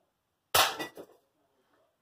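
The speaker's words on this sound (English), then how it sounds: "an extremely powerful pellet gun, I'm not using ear protection because it has a suppressor on it" A single shot from a powerful suppressed pellet gun, a sharp muffled crack followed by a brief rattling tail, close by and fairly quiet, with no talking.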